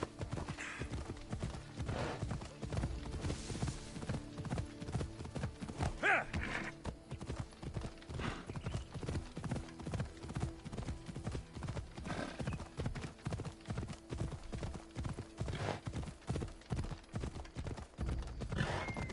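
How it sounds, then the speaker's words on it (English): Steady clip-clop of horse hooves trotting continuously at a brisk rhythm, with background music and ambience underneath, from the video game Assassin's Creed Odyssey. "I don't know if my horse will be able to climb that hill."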